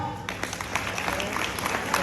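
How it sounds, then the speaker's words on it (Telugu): Students clapping together in a classroom, a burst of dense, steady applause close by that swells slightly toward the end. "Very good, claps."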